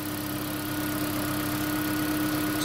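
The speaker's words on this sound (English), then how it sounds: "Here's my new engine running in my gray V5." A freshly installed 2016 Toyota Prius engine idles in a gray 2012 Prius, running in maintenance mode; a steady, even hum with a constant tone, close and alone throughout.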